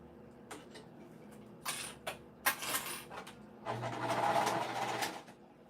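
A sewing machine stitches and backstitches through fabric in short whirring bursts, then one longer steady run, close and moderately loud, with clicks and handling sounds between the bursts.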